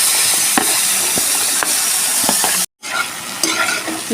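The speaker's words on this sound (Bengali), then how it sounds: "এই তেলের মধ্যেই ওই কুলেখাড়া ডাঁটাগুলো যে কেটে রেখেছিলাম ওগুলো হালকা করে ভেজে নেব" Kulekhara stems fry lightly in hot mustard oil in a kadai, a steady dense sizzle with scattered utensil scrapes and stirring clicks, briefly cutting out before the frying resumes close and loud.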